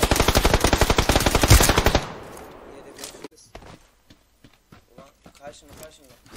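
Rapid automatic gunfire from the video game PUBG Lite rattles loud and close in a dense burst for about two seconds, then stops, leaving scattered game noise and players talking.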